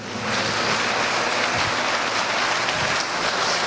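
A church congregation at a Mother's Day service breaks into loud, sustained applause, a thick continuous roar of many hands clapping that stays full and steady from start to finish, with no talking over it.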